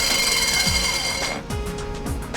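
An angle grinder fitted for core drilling whines steadily with a high, sustained tone and rhythmic low thumps as it drills a hole, the motor running continuously up close.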